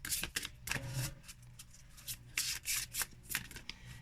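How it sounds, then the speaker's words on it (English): Matte-stock Fairytale Oracle cards being shuffled by hand, a close series of quick papery riffles and slaps in irregular bursts with short pauses between them. "I don't have too much difficulty in shuffling them"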